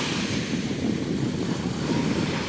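Sea waves wash steadily onto the beach at Side on the Turkish coast at sunset, a continuous, loud, close surf roar with gentle swells and some wind buffeting, no voices.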